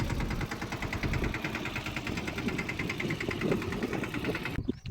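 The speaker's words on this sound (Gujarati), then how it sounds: "તો હવે આપણે ટ્રેક્ટર ચાલુ કરી દીધું છે." A farm tractor engine runs nearby in a steady, continuous mechanical chug at an even rhythm, loud and unbroken until it cuts off abruptly at the very end.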